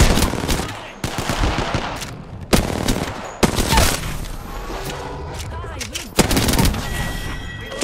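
Rapid automatic gunfire in the shooter game Apex Legends comes in loud, sharp bursts separated by brief pauses, with the game's voice lines heard between them.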